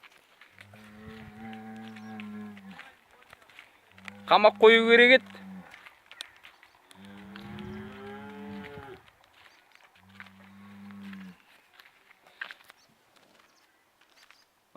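A four-year-old bull lows at a rural pasture while cows are awaited, several long deep moos in a slow series with one louder, higher bellow in the middle; someone speaks briefly nearby.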